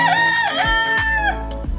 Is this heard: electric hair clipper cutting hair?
no